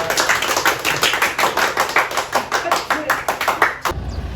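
A small group claps steadily at the close of a meeting, a few seconds of rapid, fairly close applause that stops abruptly.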